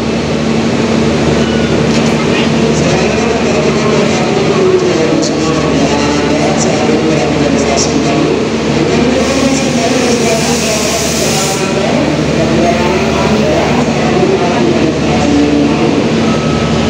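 Steady rumble of an Indonesian passenger train, the Wijayakusuma running Ketapang to Surabaya, heard from on board as it passes a level crossing, with continuous rail and wheel noise and a hissing wash throughout.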